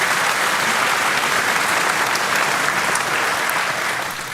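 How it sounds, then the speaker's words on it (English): Crowd at a Reform UK political campaign rally in Basingstoke giving a full, dense round of applause, loud and sustained throughout before easing slightly at the end. "Round of applause, please, ladies and gentlemen."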